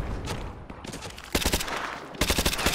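Bursts of automatic gunfire in the video game Call of Duty Modern Warfare 2, loud rapid volleys in two clusters with quieter shots between, no talk.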